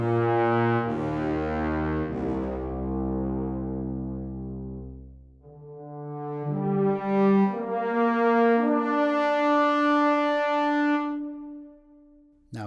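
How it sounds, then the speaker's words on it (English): Low brass section of two tenor trombones, two bass trombones and a tuba sounding a sustained unison passage, held notes that fall then rise again, loud and full without any talking. "2 tenor trombones, 2 bass trombones, and the tuba, and we're going to play them in unison"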